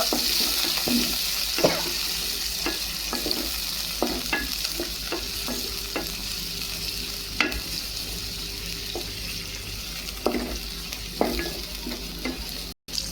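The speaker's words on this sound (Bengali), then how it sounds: "তারপর আমি দিয়ে দিব পেঁয়াজ কুচি দেন পেঁয়াজগুলো আমি একটু বেজে নিব" Chopped onions and garlic fry in a pan with a continuous close sizzle, while a spatula scrapes and taps against the pan at irregular intervals throughout.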